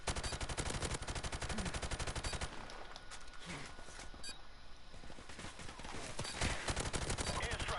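Rapid gunshots in a video game, loud repeated automatic fire at the start that thins into scattered shots and then resumes near the end, with a voice briefly heard.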